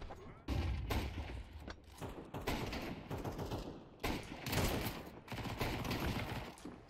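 Rapid bursts of video game gunfire blasting through a wooden wall, loud and dense, coming in several sustained volleys with brief gaps between them.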